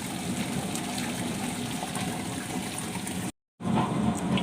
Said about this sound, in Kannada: ಸ್ವಲ್ಪ ನೀರು ಹಾಕ್ತಿದ್ದೇನೆ.